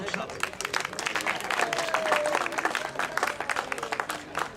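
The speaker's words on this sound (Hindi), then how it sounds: "भरपूर तालियों में इस्तकबाल कीजिएगा" Steady applause from an audience at a political party members' convention in Lahore fills the room, a dense patter of clapping that holds for several seconds while a voice carries on over it.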